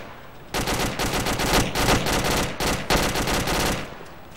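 Rapid machine-gun bursts crack out close and loud, several sustained volleys of automatic fire separated by brief gaps, over a low background hum.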